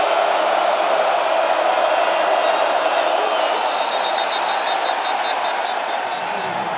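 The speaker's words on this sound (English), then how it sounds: "Crowd noise." A college football stadium crowd at a Boston College versus Missouri game roars loud and continuous, a dense wash of voices with faint whoops mixed in.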